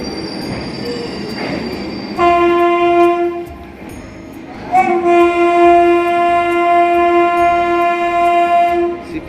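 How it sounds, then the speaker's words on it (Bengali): A Shipra Express passenger train pulls out of the station, its horn sounding in two long, loud blasts, the second one sustained, over rumbling wheels and rail noise close by. "সিপ্রা এক্সপ্রেসও ছেড়ে দিল।"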